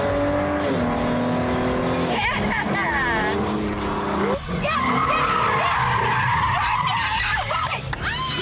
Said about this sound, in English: You just drifted that whole turn.